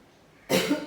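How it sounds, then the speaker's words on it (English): A single short, harsh cough erupts after a moment of quiet, close and fairly loud. "I've got a bad cough"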